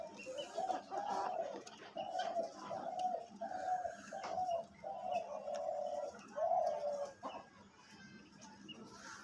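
A caged ghughu dove kept as a hunting decoy coos in a steady, repeated series of deep, rounded calls, close and fairly loud, with faint background noise and no talking.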